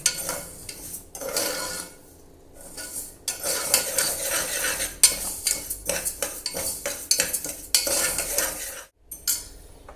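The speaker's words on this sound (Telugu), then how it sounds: "ముందుగా 1 కప్పు పెసరపప్పుని డ్రై రోస్ట్ చేసుకోవాలి" Moong dal dry roasting in a pan, a continuous gritty rattle and scrape of lentils stirred with a metal spatula, close and fairly loud, with brief pauses between bursts of stirring.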